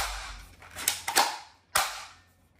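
An airsoft pistol with an extended magazine fires single shots, a few sharp close snaps spaced over a couple of seconds with no talk.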